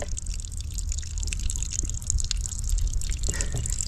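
Water from a hose pipe fed by a homemade pump pours steadily into a bucket, a continuous close splashing and trickling rush with a low rumbling undertone.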